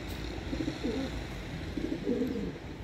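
Racing pigeons returning from a 60 km training flight coo twice in soft, low, rolling calls, close by over a steady outdoor background hum.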